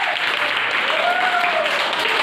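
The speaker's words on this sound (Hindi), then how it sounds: "वाह, ताली बजाइए जी।" A crowd of people applauds at a village school gathering in Bihar, steady dense clapping at full volume throughout, without pause.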